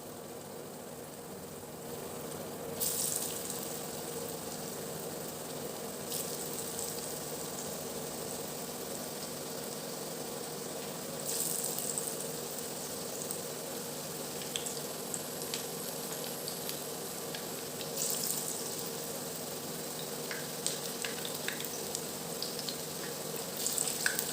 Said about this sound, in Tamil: பலாக்காய் துண்டுகளை ஒன்று ஒன்றா இந்த மாதிரி எண்ணெயில் போட்டு பொரிச்சு எடுத்துட வேண்டியதான்